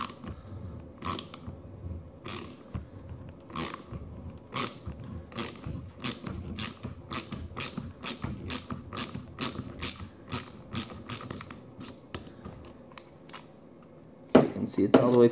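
A custom propeller is threaded onto the shaft of a Mud-Skipper Twister model boat, giving rapid, evenly spaced ratcheting clicks that run steadily for about fourteen seconds, ending in a louder rattle.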